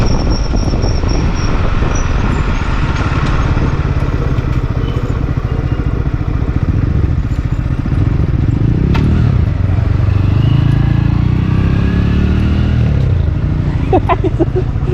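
A motorbike carrying riders travels a road near Nandgaon, Devgad, giving a continuous loud engine drone blended with rushing wind and road rumble for the whole stretch, while riders talk over it.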